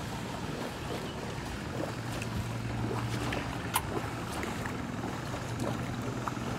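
A homemade jet boat fitted with a 120-horsepower jetski engine runs on open water, a faint, steady engine drone heard from a distance beneath wind and water noise.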